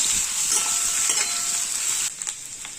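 Green chilies frying in a pan, heard as a continuous close sizzle with light stirring. The hiss drops slightly near the end.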